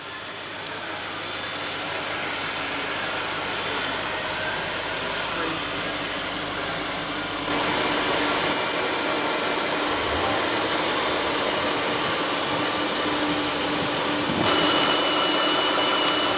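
A 2015 Dodge Durango Limited with the base 3.6-liter V6 making 290 horsepower runs steadily, giving a loud, even whooshing drone that shifts slightly in level twice, with no talk over it.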